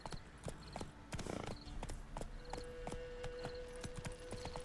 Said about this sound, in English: Why can't I mount my horse?